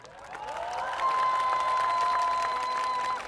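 A rally crowd applauds bereaved families with sustained, loud clapping that swells and holds steady, with a few cheers mixed in and a steady tone running through the noise.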